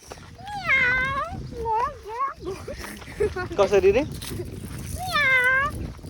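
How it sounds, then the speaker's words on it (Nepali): A cat meows several times in a clear, close, rising-and-falling cry, with a pause in the middle where a person speaks briefly, then a final drawn-out meow. "बिरालो आइदियो"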